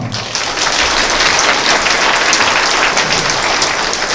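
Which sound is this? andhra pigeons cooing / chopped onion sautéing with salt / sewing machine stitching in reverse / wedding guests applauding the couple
wedding guests applauding the couple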